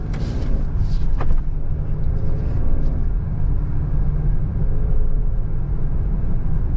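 A 2025 Ford Explorer ST with the 3.0L twin-turbo V6 pulling away from a traffic light, a loud low engine drone and road rumble building steadily from inside the cabin.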